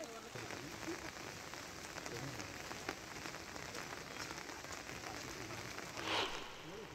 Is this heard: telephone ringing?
no